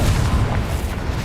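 Confringo fire-blast spell exploding in Hogwarts Legacy, a heavy low booming burst that rumbles continuously through the short moment with no voices.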